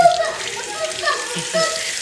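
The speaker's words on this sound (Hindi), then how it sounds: "एक बार और फिर तड़का लगाते हैं दूसरा" Spices crackle in hot oil for a tadka tempering in a home kitchen, a short burst of soft sizzling with faint spatters, fairly quiet, with a little talk underneath.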